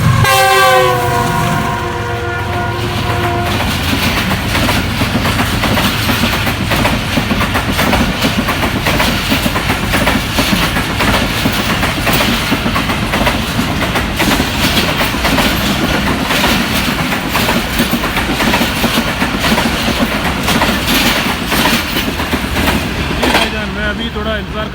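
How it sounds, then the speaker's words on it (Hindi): Karakoram Express train passing Jungshahi railway station in Sindh, Pakistan, with a horn blast at the start followed by a long, loud, steady rumble and rattle of cars rolling by close, fading slightly at the end. "ये कराक्रम अभी यहाँ से निकल गया, जा रहा है।"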